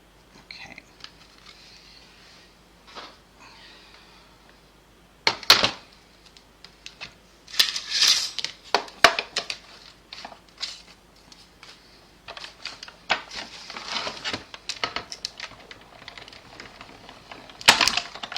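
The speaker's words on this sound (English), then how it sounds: "I'm going to just emboss it as one, and then I'll cut it" Paper card being cranked through an embossing machine during a card-making session, a series of uneven crunching, pressing and shuffling bursts that come and go over a quiet background, fairly close and moderately loud.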